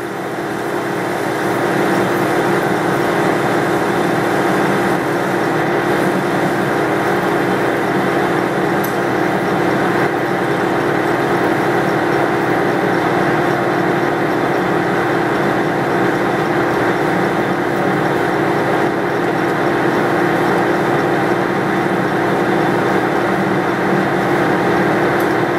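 A machine tool cuts away the side of a metal part with a loud, continuous, steady grinding drone that runs without pause for the whole stretch, close by and with no voices.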